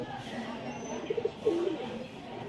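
Pigeons kept by a fancier in Ranaghat coo softly in short, low bursts near the middle, over a murmuring room background.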